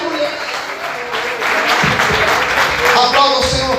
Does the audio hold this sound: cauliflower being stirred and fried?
no